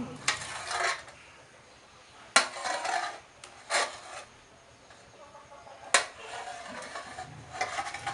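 Fresh coconut flesh scraped by hand for coconut milk, bursts of rasping scrapes come in uneven strokes with sharp knocks between them, close and fairly quiet.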